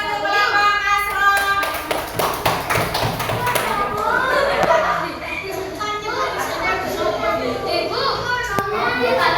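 Fourth-grade pupils clap their hands in a classroom after a group presentation, uneven sharp claps mixed with children's chatter and calls, lively and close throughout.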